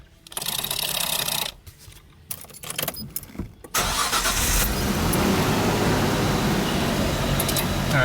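A Nissan Skyline R34 cranks in short bursts, then catches and settles into a steady, loud idle that continues to the end.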